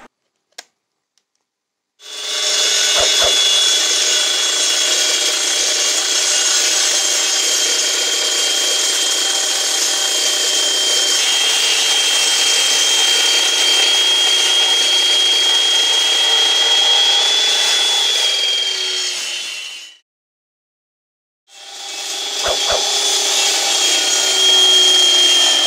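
A concrete cutter slices through concrete with a loud, continuous grinding whine held close for about eighteen seconds. It stops briefly, then a second cut starts.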